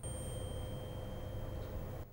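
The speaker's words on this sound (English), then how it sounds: "I am taking another tuning fork" A second 512 hertz tuning fork rings with a steady, sustained pure tone that holds evenly at moderate loudness over faint background noise for about two seconds, with no speech.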